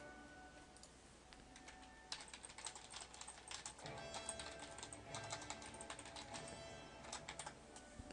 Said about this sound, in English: It's a little typing there,